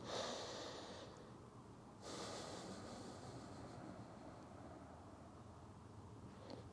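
Slow, controlled breathing close to the mic: a soft airy breath, a pause, then a long, drawn-out exhale that tapers off gently, with no talk.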